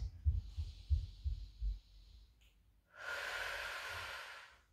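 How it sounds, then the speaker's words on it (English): Breathing in and out during a pelvic lift exercise on the floor in a postnatal recovery workout: soft low thumps of movement, then a long, steady, airy exhale rising clearly and holding for nearly two seconds. "Breathe in, big belly, on a breathe out, contract and lift."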